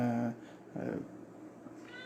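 A pet cat gives a short meow at the start and a faint cry near the end, close by, with a soft voice and room noise in between.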